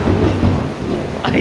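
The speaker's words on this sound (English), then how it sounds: "I saw thunder right in front of my eyes." Thunder rumbles low and heavy during an afternoon rainstorm, with rain falling steadily underneath and a brief brighter crack near the end, loud and close throughout.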